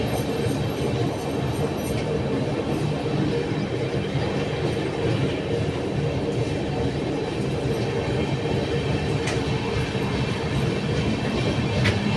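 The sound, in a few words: train running, clickety-clack on rails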